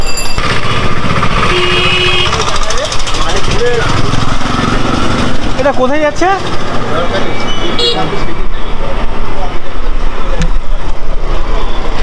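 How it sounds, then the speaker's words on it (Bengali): Buses idle and rumble at a rural bus stand bound for Jharkhali in the Sundarbans area, with a loud engine drone, a blaring horn near the middle and a voice speaking briefly over the traffic noise. "পেছনে বাস দাঁড়িয়ে আছে ঝড়খালি"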